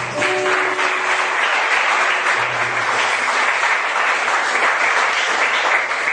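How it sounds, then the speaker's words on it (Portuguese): A church congregation applauds the Lord Jesus during a sermon, a sustained, even roar of many hands clapping that holds loud and steady for several seconds, with a brief voice and tone early on. "Vamos aplaudir o Senhor Jesus"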